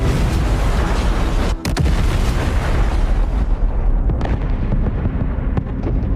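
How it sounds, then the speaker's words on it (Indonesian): A deliberate explosion strikes refugee sites, heard as a loud, sustained roaring rumble with a sharp crack early on. The blast rolls on heavily and then slowly thins, with no voices. "sebuah ledakan berencana"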